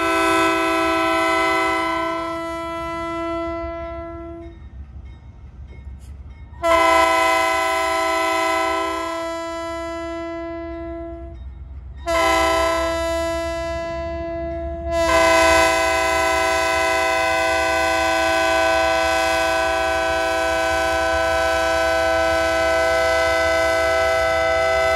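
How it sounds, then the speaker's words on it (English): Former LMX B39-8E diesel locomotive, number 58, sounding its multi-chime air horn in several long blasts broken by short gaps, loud and close, with a low engine rumble underneath and no talking. "One thing to note about this particular clip, the horn on number 58."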